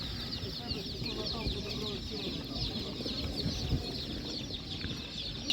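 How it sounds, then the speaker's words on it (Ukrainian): Young chickens at an animal market cluck and chirp continuously, a dense flock of high peeping calls close by, with people talking underneath. "Курята. Такі підрощені є."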